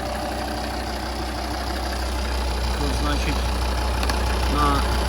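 A Volvo XC diesel engine with a manual gearbox idles at low pitch with an even, continuous rumble, while a voice talks over it.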